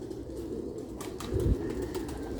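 Young grey Sialkoti pigeons coo softly at close range, with low murmuring calls and a few faint rustles and clicks.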